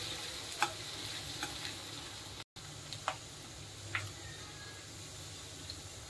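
Food roasts in a pan for a Marathi naivedya thali, a quiet, steady sizzle broken by occasional light taps and scrapes of a spoon, with a brief cut to silence midway and no talking.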